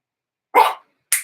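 A dog gives two sharp, loud barks close by, about half a second apart, with silence before and between them.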